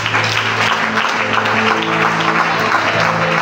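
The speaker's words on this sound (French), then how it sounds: "Est-ce qu'on peut acclamer le Seigneur?" A church congregation applauding the Lord, a loud, dense, steady clapping that fills the room with a faint musical tone underneath.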